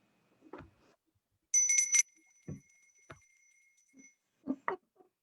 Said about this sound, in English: followed in the distance by the tinkling of a bell